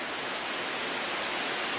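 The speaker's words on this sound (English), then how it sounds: "the gentle breeze from the trees" Steady broadband rush of a breeze moving through forest trees, an even, fairly loud hiss with no talking.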